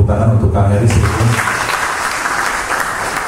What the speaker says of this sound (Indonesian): Tepuk tangan untuk Kang Heri sebetulnya.